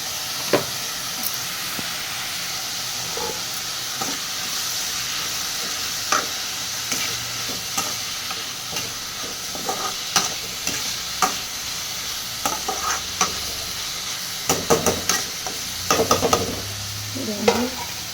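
Green beans stir-frying in oil with salt and a little turmeric powder make a continuous sizzle and hiss, with spatula scrapes and clanks against the pan growing more frequent toward the end, heard close up.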